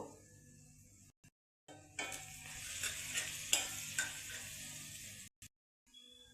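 Brinjal frying in fish oil with salt and turmeric powder, a bright sizzle rising as the pieces hit the pan, with stirring scrapes and brief silent cuts.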